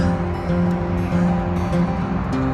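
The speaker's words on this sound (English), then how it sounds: "Definitely doesn't like how noisy all of the traffic is" Steady road traffic noise heard on a road trip just below the French border, a continuous, fairly loud engine-and-tyre rumble with a constant hum and no speech.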